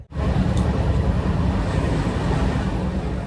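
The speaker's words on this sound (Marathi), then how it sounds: "Mathura junction railway station" At Mathura Junction railway station a train gives off a steady, loud low rumble and rolling drone that stays near and even across the moment, with a brief high squeal close to the start.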